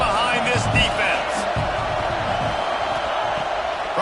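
A stadium crowd at a week 12 OSU football game roars behind the defense on a big third down, a loud, steady wash of cheering that fills the whole stretch without letup.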